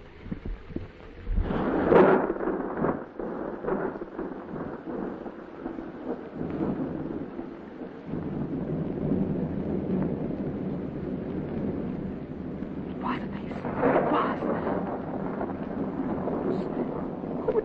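Steady rain and rumbling storm noise fill the clip, with a heavier roll near the start and gusty wind throughout.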